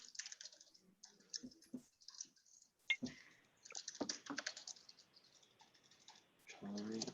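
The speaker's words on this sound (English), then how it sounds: "I'm just typing this up." Quiet, uneven tapping on a computer keyboard during an online committee meeting, with bursts of keystrokes and pauses between them and faint voices in the background.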